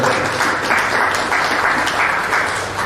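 Steady applause from a gathered group at a school alumni high tea, continuous clapping at moderate volume throughout.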